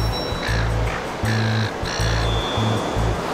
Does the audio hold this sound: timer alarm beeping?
no